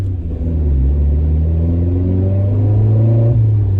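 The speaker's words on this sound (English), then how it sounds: "I don't know if you can hear that exhaust. It's got a nice little note to it." A Suzuki Jimny's engine and exhaust drone loudly from inside while driving, with the deep rumble rising in pitch as it accelerates through a gear and no talking.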